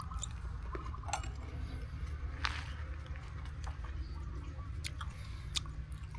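Chewing and biting into a crunchy, chewy fruit up close, with sharp irregular crunches and moist mastication sounds repeating steadily over several seconds.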